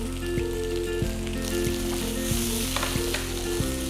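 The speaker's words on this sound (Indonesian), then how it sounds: "Oke, ini kita mau tumis." Shrimp paste sizzles steadily in hot oil in a pan, with a dense continuous frying hiss and regular stirring scrapes, loud and close with no talk.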